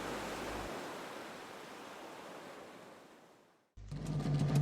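Ocean surf on the coast of Tahiti, a broad continuous wash of breaking waves that slowly thins and fades out, then cuts abruptly into a louder burst of surf.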